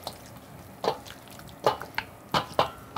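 Dressing poured into a bowl of potato salad, heard as a few soft wet plops and splashes at irregular moments, close and quiet.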